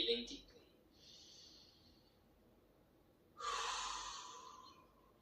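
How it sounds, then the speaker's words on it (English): Deep breathing during a seated stretching exercise: a sharp breath, then a soft exhale, a pause, and a louder long breath near the end, close and fairly quiet. "Breathing deeply."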